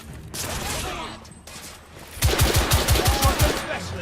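Gunfire in a firefight in the video game The Order: 1886: a close rapid burst of automatic shots rattles off in quick succession after an earlier stretch of shouting and combat noise.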